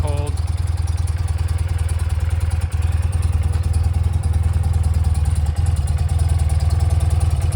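A 1992 BMW R100GS motorcycle engine idles on half choke just after a cold start, a loud, steady, close-up chugging beat that runs unbroken throughout.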